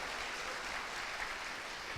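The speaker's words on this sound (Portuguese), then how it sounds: "Você pode aplaudir esse Deus que não quer ficar só?" Church congregation applauding during a sermon, a soft, steady, distant patter of many hands sustained for two seconds.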